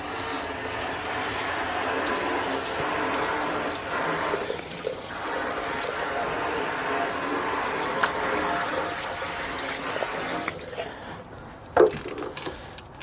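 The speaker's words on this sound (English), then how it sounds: "So let's rinse." Water sprayed steadily to rinse Superclean degreaser off after an oil change, a continuous broad hiss with splashing that runs for about ten seconds before cutting off, followed by a few faint drips and knocks.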